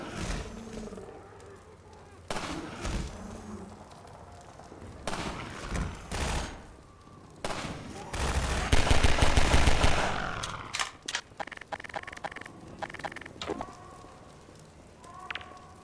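Sniper gunfire at zombies in Half-Life 2, sharp cracking shots and bursts scattered through the scene with a longer roaring volley midway, and gruff growls and game noise between shots.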